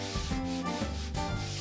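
Folded 120 grit sandpaper is rubbed by hand back and forth along the grain of wood, giving rhythmic, close scratchy strokes with no talking.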